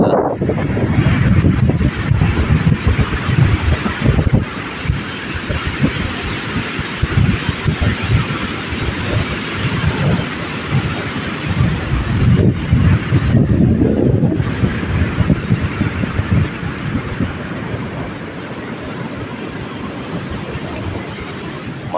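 Cool wind blows hard across a sea shore at Kolthare village, a loud, gusty rush buffeting the microphone, with faint surf and water noise underneath.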